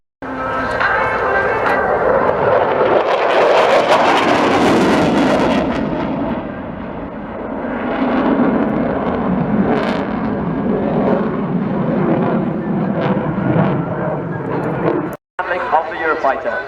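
A Eurofighter jet performs display manoeuvres at an airshow, its roar swelling, dipping and surging again as it passes, under continuous commentary from an announcer.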